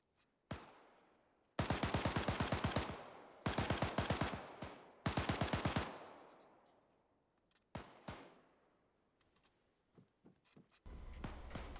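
Hip-fired gunfire in the military shooter Arma 3: a single shot, then three loud bursts of rapid automatic fire, followed by scattered single shots and echoing reports fading out.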